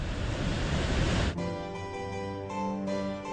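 Thunderous roar of Niagara Falls: a loud, dense wash of falling water that cuts off after about a second and gives way to steady tonal music.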